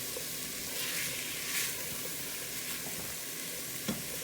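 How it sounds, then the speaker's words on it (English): Coated chickpea masala with ginger, garlic and onions sizzles steadily in a cooking pan, a continuous close frying hiss with soft scraping stirs running through it and no talk. "we're going to just keep stirring it for a bit, maybe 1 minute"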